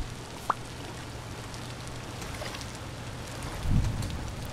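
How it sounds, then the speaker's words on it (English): Steady rain hisses in the video game Vintage Story, a soft continuous wash with a single sharp tick early on and a brief louder thump near the end. "It went out in the rain."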